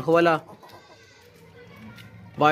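A goat being readied for the 2024 Qurbani sacrifice bleats loudly twice, once at the start and again at the end, with quiet background murmuring in between.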